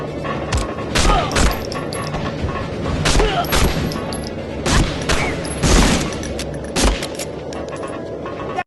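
Gunfire in the World War II shooter Medal of Honor Frontline, several loud sharp shots in irregular bursts, some closely spaced, over a constant background of game ambience.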